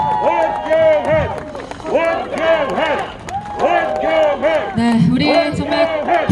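A crowd at a National Assembly election campaign rally in Yeongwol, Gangwon Province, cheers for candidate Won Gyeong-hwan, with loud, repeated shouts and chant-like voices in bursts over faint clapping.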